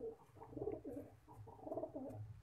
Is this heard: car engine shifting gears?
no